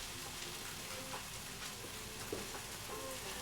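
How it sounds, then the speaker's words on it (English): An onion mixture frying in a pan for kibbeh: a steady, close sizzle and crackle of hot oil with occasional pops, fairly quiet and heard alone. "So this onion frying mixture is like a topper for what I'm doing."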